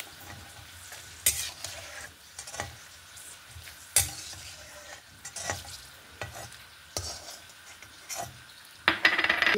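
Peanuts frying in oil in a pan while being stirred, with a constant sizzle and a series of sharp spoon scrapes and clacks against the pan, close and fairly loud.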